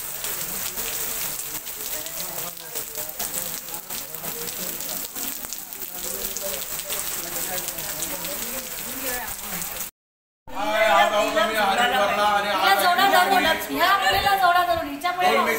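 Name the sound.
heavy rain falling in Haridwar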